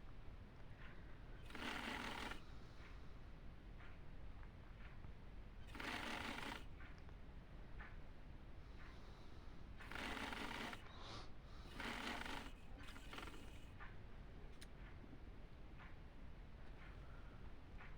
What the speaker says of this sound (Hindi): उस किनारे पे सिलाई लगानी है।